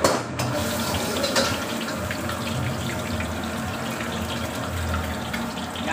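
Paneer cubes hitting hot oil for restaurant-style paneer chili, a steady loud sizzle and hiss lasting throughout with no talking.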